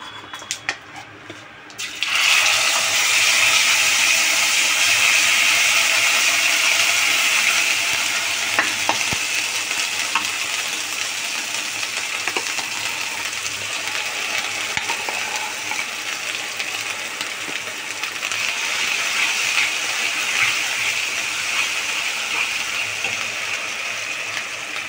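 Ground roasted spice paste drops into hot oil with cumin and dried chilli for a duck egg curry; after a quiet start a loud sizzle erupts and holds steadily, with occasional clinks and stirring, no speech.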